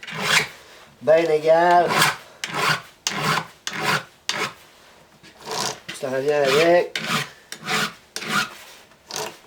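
A chainsaw chain is sharpened freehand with a hand file, giving a steady series of short, raspy strokes in an even rhythm, with someone speaking French between and over the strokes.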